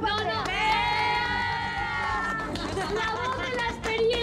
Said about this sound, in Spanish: ¡Aplauso para Ana!